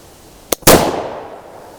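A flintlock pistol fires: a sharp snap of the flint igniting the pan, then a loud close gunshot blast with a decaying tail, alone with no talk.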